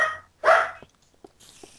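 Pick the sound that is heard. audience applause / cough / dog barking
dog barking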